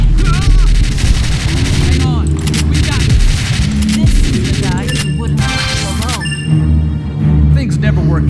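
Rapid gunfire in the House of the Dead: Scarlet Dawn arcade shooter, loud bursts of shots scoring headshots on zombies, dense and near, mixed with game music and a voice talking over it.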